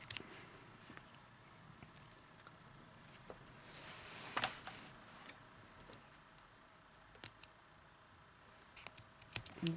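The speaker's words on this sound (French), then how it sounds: "je place mon fil contre mon mètre ruban et je viens découper mes 3 brins" Scissors cut strands of jute yarn measured against a tape measure for a crocheted bag. Faint, sparse snips and small clicks sit over quiet room noise, with one louder rustle near the middle.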